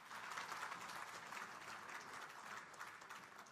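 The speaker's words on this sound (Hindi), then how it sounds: "हमारी तालियों की गर्जना बहुत जोर से हो" Dense, sustained applause from an audience at a parliamentary committee conference in India, a steady roar of many hands clapping heard at a distance and fairly quiet.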